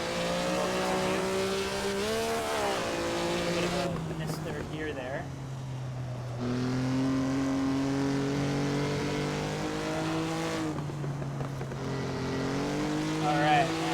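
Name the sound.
race car engine accelerating in a racing simulator game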